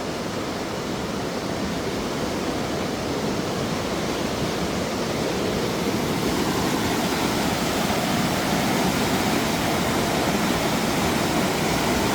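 Dave's Falls in Amberg, Wisconsin, roars steadily and continuously during flooding, a dense rushing wash of water heard up close with no breaks.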